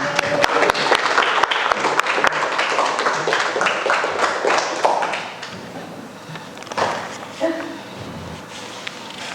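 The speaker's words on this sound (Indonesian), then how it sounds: "jadi bisa kita beri aplaus kepada kalian" Students applauding in a classroom, a crowd of hands clapping rapidly and fairly loudly for about five seconds before it fades into room murmur, with a teacher's voice heard speaking.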